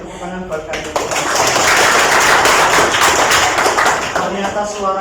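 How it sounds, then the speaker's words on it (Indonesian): Classroom of students clapping for their classmates, a swelling round of applause that rises from light taps to a full roar and then tapers, with a teacher's voice speaking before and after. "tepuk tangan buat kalian"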